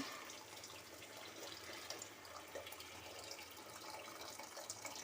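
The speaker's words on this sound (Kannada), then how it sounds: "ನೋಡಿ ಇವಾಗ ನಾನು ನೀರು ಕೂಡ ಹಾಕ್ತಾ ಇದ್ದೇನೆ" Water pours steadily into a cooking pot while spinach rice is being made, a continuous broadband splashing rush at even loudness throughout, close by and with no voices.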